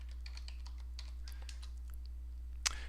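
Faint keystrokes on a computer keyboard patter irregularly under a low steady hum, ending with one louder key press.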